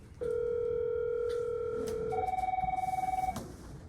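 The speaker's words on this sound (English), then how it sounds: "So if somebody will call you, your phone will ring" A telephone rings for an incoming call: a steady electronic tone, then a rapidly warbling ring that stops abruptly, loud and close with no talk.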